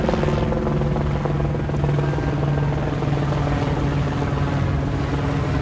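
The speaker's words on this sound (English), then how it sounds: "is a helicopter." Helicopter over Hollywood Boulevard, a loud, steady rotor drone with a strong low hum that holds through the whole stretch without pause.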